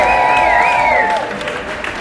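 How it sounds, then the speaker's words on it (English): A crowd at a Brooklyn Bowl political event claps and cheers in a short round of applause, with a sustained whistle or feedback tone over it at first before the clapping thins out. "Give yourselves another round of applause for coming out for such an important prize."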